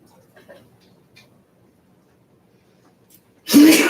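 A single sharp, loud sneeze bursts out near the end after several seconds of near silence with faint indistinct background sounds.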